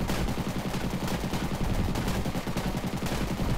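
Rapid aircraft gunfire strafes from overhead in a tower defense video game, a dense, steady stream of loud shots rattling continuously with no pauses.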